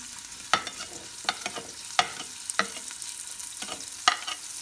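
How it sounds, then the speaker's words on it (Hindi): Sliced onions frying in a pan for keema rice, a steady close sizzle broken by sharp stirring clinks and scrapes about once a second. "अब ये 2 अदद प्याज मैंने काटे थे जो इसमें डाल रही हूँ।"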